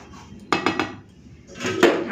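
A metal lid is set onto a kadai of chicken biryani, giving a few quick clinks and clatters of metal on metal, followed a moment later by a louder scraping clank, close and clear with no talk.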